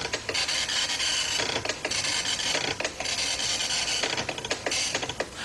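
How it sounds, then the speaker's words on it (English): A Commodore 64 printer prints a program listing in rapid rasping bursts of dot-matrix print-head noise, line after line, broken by short gaps as the head returns, close and alone. "instead of listing to the screen, the computer will list to the printer"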